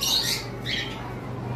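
A yellow-sided conure parrot lets out two shrill squawks close by, the first louder and the second shorter, over a low background hum.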